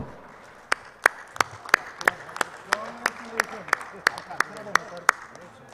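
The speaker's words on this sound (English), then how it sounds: "Big round of applause." Audience members at a conference clap in crisp, evenly spaced claps that ring out over a quiet room with faint murmuring underneath.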